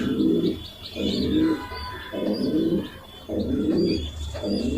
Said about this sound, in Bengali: এটা খায়ের ভাইয়ের একটা কবুতর